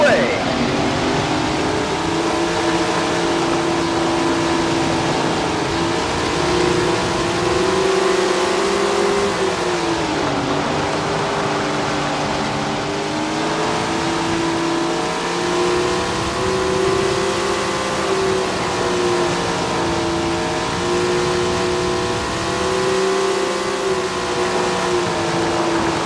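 TQ midget race car engines at the start of a race in the Tony Stewart's Sprint Car Racing game on the Dennison track, a steady, loud multi-engine drone with wavering pitch as the pack revs, with commentary running over it.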